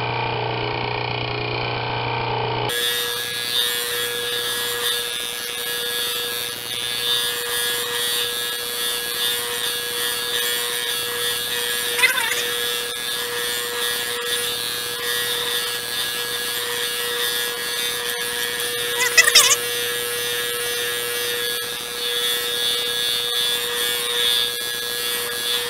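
A homemade powered leather edge burnisher runs with a steady, even motor hum throughout, broken by a couple of brief scraping touches against the spinning wheel.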